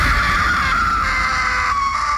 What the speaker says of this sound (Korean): 그리고 비명을 지르는 장면이라는 게